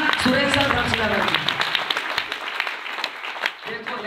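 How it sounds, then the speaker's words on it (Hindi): Dense, crackling applause from a crowd fills the clip, with a voice briefly audible at the start beneath the clapping. "जोरदार तालियां"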